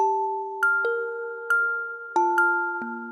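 A dry Kalimbox synth melody with no delay effect, a few bright plucked kalimba-like notes over held lower tones, clear and close for about three seconds.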